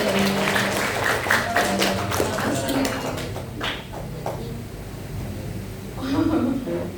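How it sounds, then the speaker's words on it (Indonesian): Applause for a grade 8 class in a school lesson, a burst of quick hand claps that fades after a few seconds, with voices talking over it. "Boleh beri tepuk tangan buat kelas 8 nih"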